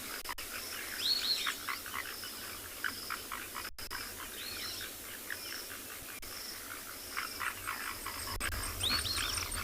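Dense chorus of frogs calling in the South African bush in the morning, with repeated croaks and trills layered over constant insect buzzing and occasional bird chirps, no talking.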